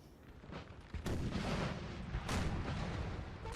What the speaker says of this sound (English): There's some French cav as well on the far side, getting hit by artillery.